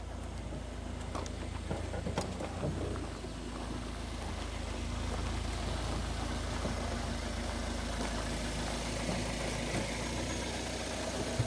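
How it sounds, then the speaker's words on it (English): A modern beach buggy engine idles quietly and steadily, a low continuous hum with a faint mechanical knock running beneath it throughout, close by and unbroken by talk. "Yeah, the engine runs so quiet."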